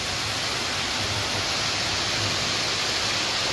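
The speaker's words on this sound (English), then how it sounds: "here is the waterfall," Indoor decorative waterfall in a casino, a steady loud rush of falling water filling the space alone with no voices.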